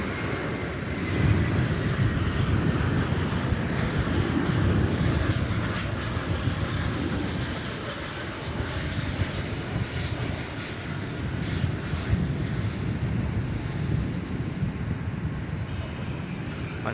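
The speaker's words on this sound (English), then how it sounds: "taxiing on the east side for a north departure" Jet airliner taxiing on the east side of DFW Airport toward a north departure, a steady broadband engine rumble and hiss holding at close, even loudness throughout with no voices.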